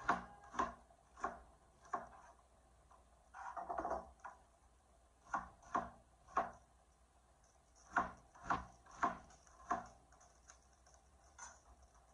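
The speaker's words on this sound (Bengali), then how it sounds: "আমি করব কি, এখানে পেঁয়াজটা কেটে নেব" A knife chops onion into slices on a cutting board, the blade striking in short bursts of two or three quick, crisp taps with pauses between them, close and clear with no talking.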